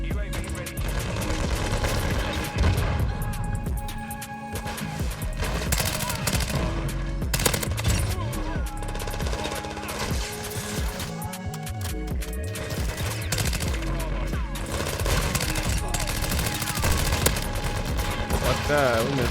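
Rapid automatic gunfire from a Modern Warfare 2 match, loud, dense and near, with sustained bursts under game music and effects for the whole stretch.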